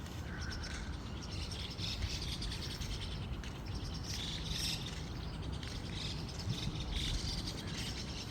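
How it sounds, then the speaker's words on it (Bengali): Birds twitter in a quiet Japanese residential neighbourhood in the morning, with faint, scattered chirps over a soft steady background hum and possible insects. "আর সকালটা দেখেন পাখির কিচিমিচির শব্দে এত সুন্দর।"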